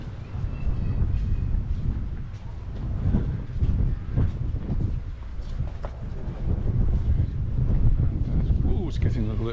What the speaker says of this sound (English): It's getting a little bit breezy now.